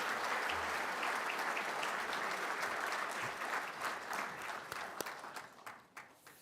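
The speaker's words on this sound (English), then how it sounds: "I've heard 3 rounds of applause during a speech of this kind" A roomful of conference attendees claps steadily after a keynote address, a dense wash of applause that holds for several seconds and then thins out toward the end.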